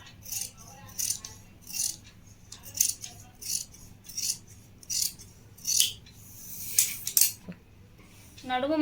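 Scissors snip through blouse fabric in a series of short, crisp, close cuts with a rhythmic rattle, about a dozen strokes at a steady pace over a quiet background.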